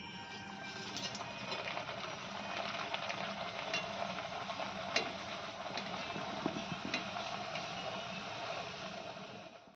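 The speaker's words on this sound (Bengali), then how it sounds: "এখন গরম গরম লুচি ভেজে নিচ্ছিলাম" Luchi fry in hot oil, producing a continuous, fairly quiet sizzle and crackle for several seconds with faint scattered clicks and no talking.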